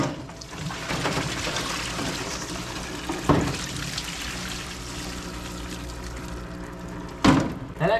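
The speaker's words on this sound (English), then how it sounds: "Flushing the tank out right now" Oil gushes steadily from the fuel tank of a portable diesel air compressor as it is flushed out, a continuous close pouring and splashing stream broken by a couple of dull metallic clunks.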